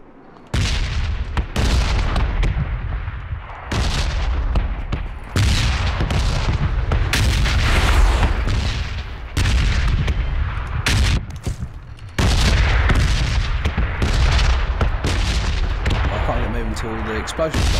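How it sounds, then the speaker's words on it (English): Explosions and gunfire in the PUBG battle royale video game, a series of loud booming blasts with sharp onsets and decaying tails, repeating irregularly, with a voice talking over parts of them. "Explosion."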